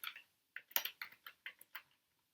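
Short clusters of crisp key clicks from a computer keyboard come in quick bursts with brief pauses, close and fairly quiet, entering a line of code in the vi editor in a quiet room.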